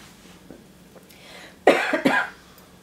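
A pair of rough, close coughs in quick succession after a quiet moment, moderately loud, with no speech around them.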